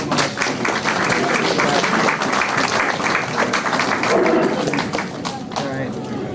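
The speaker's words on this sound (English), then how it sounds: "Let's give them a round of applause." An audience at a school meeting breaks into sustained applause, a dense wash of clapping mixed with cheering voices that holds steady throughout.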